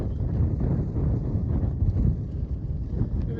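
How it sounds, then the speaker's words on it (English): Strong wind blows steadily across the microphone near a mountain peak at sunset, a continuous loud low rumble with gusty buffeting and no clear speech. "Maybe that's a good sign that the wind's gonna stop"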